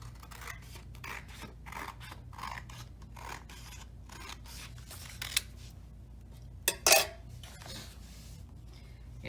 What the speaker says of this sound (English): you're going to cut it in half down the middle